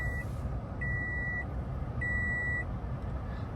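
Two clear electronic beeps, each lasting about half a second, from programming a Toyota smart key, sounding over a low steady hum, with a fainter tone at the very start.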